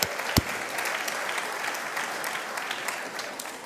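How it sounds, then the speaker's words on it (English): Sustained audience applause at a leadership celebration, steady and moderately loud for several seconds with one sharp clap standing out near the start, no talk over it. "I want you to give them a wonderful round of applause for that."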